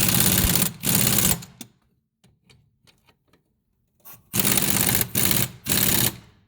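An impact gun fastens the rear strut on a 2007 Subaru Forester, two groups of loud rapid hammering bursts separated by a quiet stretch with faint metallic clinks.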